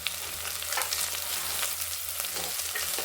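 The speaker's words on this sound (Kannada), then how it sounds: "ಇವಾಗ ಈರುಳ್ಳಿ ಹುರುಳಿಕಾಯಿ ಕ್ಯಾರೆಟ್ ಹಾಕೋತೀವಿ" Onions, green beans and carrots frying in a pan for little millet vegetable upma, giving a steady close sizzle with a few soft stirring scrapes and no talk.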